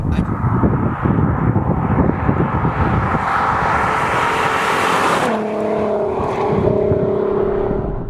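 A Mk4 Volkswagen Golf R32 engine accelerating hard, a loud sustained rising roar heard from inside the car, then a gear change drops the pitch before it climbs again.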